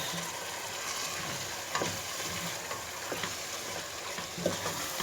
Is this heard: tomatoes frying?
yes